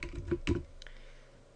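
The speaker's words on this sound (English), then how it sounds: "I'm going to click and retype the text." A few quick computer keyboard keystrokes, close and clear, bunched in a short burst before a faint trailing tap and quiet room tone; nobody speaks.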